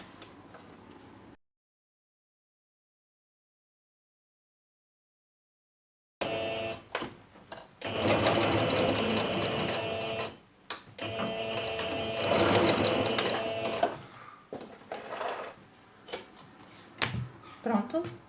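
A sewing machine stitches the seam of a fabric wallet in two bursts of rapid, steady mechanical chatter, separated by pauses with handling sounds, after a stretch of silence and brief talk.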